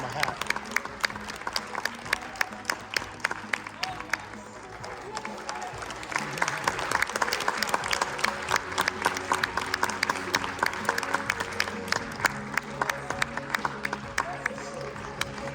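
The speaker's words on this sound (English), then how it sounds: "Why is there so much clapping?" Rhythmic clapping from an audience runs throughout, sharp distinct claps at moderate loudness, with voices talking intermittently underneath and the clapping growing denser midway.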